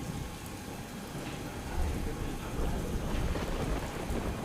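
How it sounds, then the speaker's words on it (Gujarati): Heavy, continuous rain pours down across Surat district during a monsoon downpour, a dense steady wash of drops with a low rumbling swell that grows louder midway, heard alone without speech. "સમગ્ર સુરત જિલ્લામાં ગઈકાલથી સતત વરસાદ વરસી રહ્યો છે"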